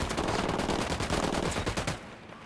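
Rapid bursts of automatic gunfire in the video game Ghost Recon Wildlands, dense and loud for about two seconds before cutting off to a quieter tail.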